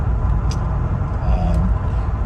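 A 1979 Lincoln Continental Town Car with a 400 engine cruising on the road, giving a steady low rumble and road noise from inside the cabin throughout.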